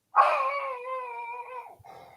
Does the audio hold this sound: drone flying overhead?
no